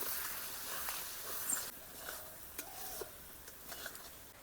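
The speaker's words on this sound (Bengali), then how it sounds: "এই মশলাগুলোকে আরেকবার কষিয়ে নেব।" Spices with chili powder and sugar fry in a pan while being stirred, a faint, close sizzle broken by soft, irregular scrapes of the spoon.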